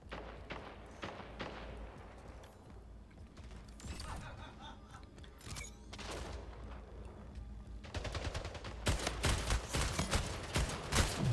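Gunfire from a Splitgate match, including a wound-up railgun, comes as sharp, scattered shots and rattling bursts, quiet overall, growing denser and louder in the last few seconds.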